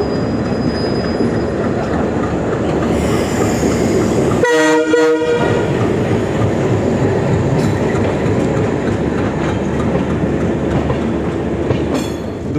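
The Kolkata to Jammu Tawi Express rumbles along at speed after leaving Lucknow, a loud continuous roar of wheels and carriages with a brief horn blast partway through and squealing overtones.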